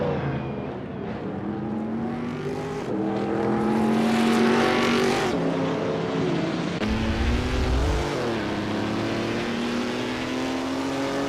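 Historic race cars in the Assetto Corsa game at Rouen Les Essarts, engines droning and revving loudly with rising and shifting pitch, a close car passing with a deep rumble, no talk.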